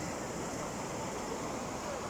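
Floodwater rushes steadily past the cut-off Teshie-Nungua bridge on the main highway after rain, a constant faint broadband roar without pause.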